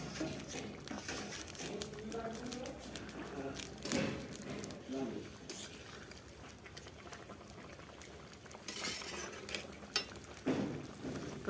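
Whole singi fish frying in oil in a pan for a homestyle Bengali fish curry, a steady bubbling sizzle with intermittent utensil clinks and scrapes, speech present in the background.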